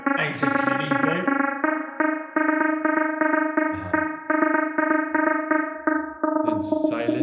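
A music track produced in Logic Pro X, with reverb applied to the clap part, plays as steady, rhythmic, ringing tones, up close and loud, with a trailing wash on each hit and no voice.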